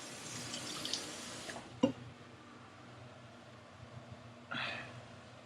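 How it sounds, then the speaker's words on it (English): A knife is rinsed under a running kitchen tap, with a soft, steady water hiss, a brief clink partway through and a louder gush of water near the end. "I'm gonna wash the knife."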